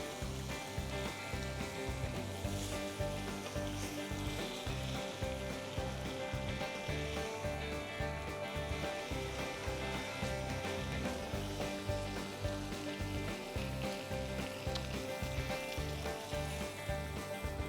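Meat sears in a hot pan with a loud, steady, dense sizzle that runs unbroken throughout, close up, with no one talking.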